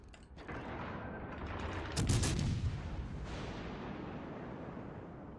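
Warship guns in World of Warships Legends fire a booming salvo, a sharp heavy blast rising out of a rumbling naval battle background and trailing off in a long decaying roar.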